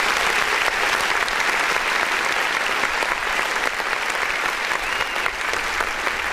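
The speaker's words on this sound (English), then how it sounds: "I give you a little bit of a clap." Steady, dense clapping from a crowd, continuous and even for several seconds, applauding an independent artist's song on a music review show.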